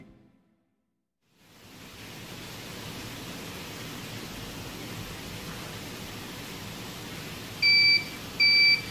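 A steady hiss of noise runs throughout, then two short, sharp high-pitched beeps from a piezo buzzer driven by a 555 timer circuit sound near the end, one after the other.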